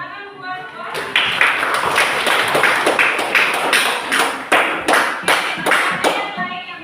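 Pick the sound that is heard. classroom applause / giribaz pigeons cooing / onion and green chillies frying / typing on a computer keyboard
classroom applause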